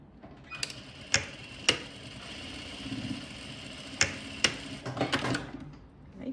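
A sewing machine runs a straight stitch along the edges of a cloth bag, a steady close mechanical whir punctuated by a few sharp clicks.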